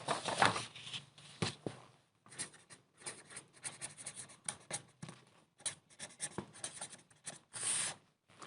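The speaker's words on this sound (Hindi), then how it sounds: "उसकी डेफिनेशन लिख रहा हूँ मैं।" A pen writes out a math definition by hand in close, scratchy bursts of strokes separated by short pauses, with no talking over it.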